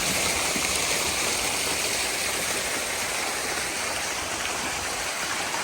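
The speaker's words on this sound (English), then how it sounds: "Where we have 5 fountains that can be adjusted." Five adjustable recirculating fountains splash at a restaurant's front entrance at night, a loud, dense, continuous rush of falling water with no voices over it.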